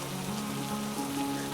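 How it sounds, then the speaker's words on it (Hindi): Heavy rain pours steadily and loudly, a dense continuous wash with no voices over it. "ये बारिश तो बहुत तेज है।"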